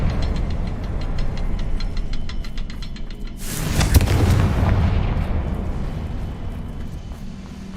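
Confringo fire spell exploding in Hogwarts Legacy: a sudden loud blast erupts midway and decays into a rumbling tail, above a steady mechanical background.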